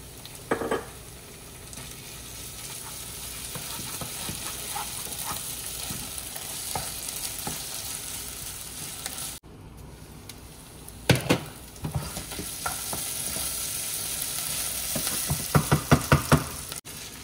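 Ginger garlic paste fries in a pan for pav bhaji with a steady sizzle, while a spoon stirs and scrapes through it. Sharp knocks against the pan come through clearly near the end.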